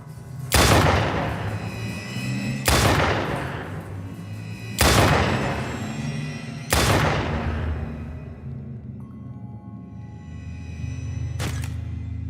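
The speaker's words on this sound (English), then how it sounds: "and the firing started" Gunfire in a bedroom shooting, heard as four heavy, booming blasts spaced about two seconds apart, each with a long rumbling decay, followed by a sharper crack. Loud and close, with no voices.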